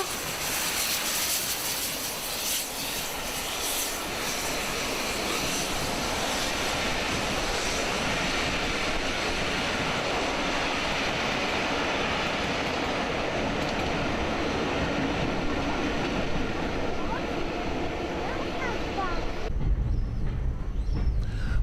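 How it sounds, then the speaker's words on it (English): Steam excursion train double-headed by two Black Five locomotives passing through Aviemore at about 40 mph, a sustained broadband rumble and rush of wheels and carriages that builds and holds, then cuts off abruptly near the end. "Two black fives, heading south on a steam train excursion, passing through Aviemore at 40 miles an hour."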